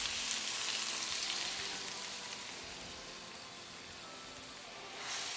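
A steady, soft hiss and sizzle rises from a hot pan as meatballs are stirred with cream, faint and continuous, with a slight swell at the end and no talking.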